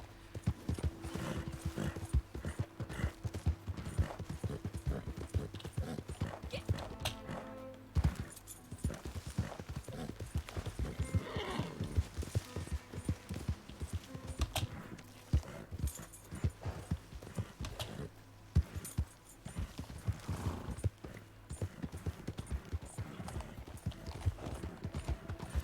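A horse in the game Red Dead Redemption 2 walking with steady clip-clop hoofbeats close by, a continuous rhythmic plodding with occasional neighs and snorts over faint ambient sound.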